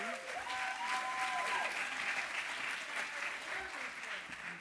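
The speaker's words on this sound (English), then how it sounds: "let's give another round of applause to Marcel Davies Lashley." Audience applause at an evening program kicking off the Schomburg centennial, a steady wash of clapping from a crowd that holds for nearly five seconds, with faint tonal sounds passing over it early on.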